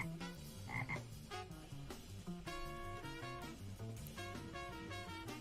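A frog croaks loudly in a quick series of repeated, throaty calls, with no talking over them.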